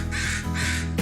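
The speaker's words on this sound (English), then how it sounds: "We also have a family of crows that live in a nearby tree, and they spend quite a bit of time in our yard." Crows cawing in a backyard near a tree, a harsh, loud run of caws close by, repeating in quick bursts with barely any pause between them.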